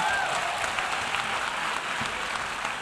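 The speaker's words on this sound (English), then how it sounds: "Can you clap for us?" An audience at the United Nations International Young Leaders Assembly applauds, a dense burst of steady clapping from a crowd that lasts about three seconds.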